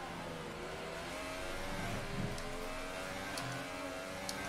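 A Ferrari Formula 1 car in the racing game F1 2018, its engine whining steadily at high revs with small pitch shifts, heard fairly faint and continuous and with no talk.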